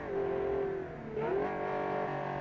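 A flat-plane V12 engine in the BeamNG driving game, a mid-engined Kiev Motors 12, revs in a loud, steady, smooth wail that dips briefly and then climbs again.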